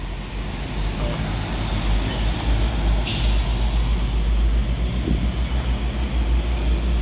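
Road traffic rumbles steadily as a long-distance intercity bus from Pekanbaru to Surabaya passes nearby on an Indonesian roadside, with a sharp hiss of air brakes partway through.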